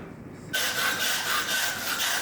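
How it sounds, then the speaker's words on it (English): Knife trimming excess offcuts from a whole lamb on a butcher's block, a steady close scraping and rasping that begins abruptly and continues evenly without speech. "I'm just going to trim up any excess offcuts that we've got"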